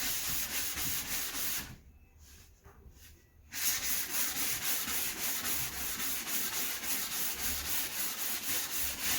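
A car body panel on an MR2 is sanded by hand with 180 grit sandpaper, a close, steady abrasive rasping that pauses briefly near the start, then resumes as continuous scrubbing strokes.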